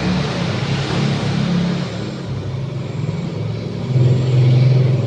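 A car drives along with a steady, close engine rumble and road noise that swells slightly near the end, as if accelerating.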